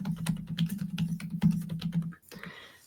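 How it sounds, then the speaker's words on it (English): Computer keyboard typing with rapid, irregular key clicks over a steady low hum, fairly close, running for about two seconds before stopping into quieter room sound. "Let me see if I can type it in."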